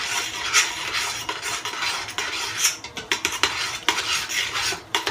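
Macaroni pasta and cheese stirred together in a pan, giving an irregular run of close, scraping, squelchy strokes with occasional utensil knocks against the pan, with no voices.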